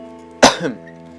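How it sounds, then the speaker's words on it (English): A single sharp, close cough bursts out, followed by a brief throaty tail, then quiet room tone. "Sorry, coughing."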